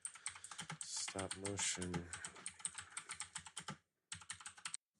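Loud clicky keyboard being typed on in quick bursts of clacking keystrokes, running under continuous talk by a voice before a brief pause and a final flurry of taps.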